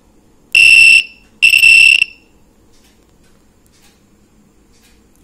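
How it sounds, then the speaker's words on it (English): A piezo buzzer on an ATtiny13 microcontroller circuit, triggered by a light-dependent resistor, sounds two loud, shrill beeps about half a second each, close together, followed by near silence. "The value has increased to less than 500, so the buzzer will ring now."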